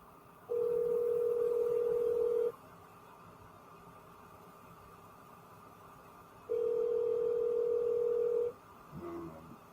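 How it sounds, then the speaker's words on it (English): A phone call that fails to connect: two long, steady electronic tones of about two seconds each, separated by several seconds of quiet line hiss, followed by a brief click at the end. No voices. "It's just calling, but it's not saying ringing, so I know the call is not going through."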